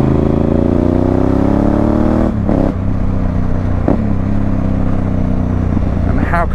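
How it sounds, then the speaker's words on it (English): Exhaust of a Honda Africa Twin motorcycle cruising slowly on a country road, a loud, close, steady low rumble with one brief rise in pitch early on and a few sharp clicks, heard from on the bike. "how could you not love the sound of that exhaust?"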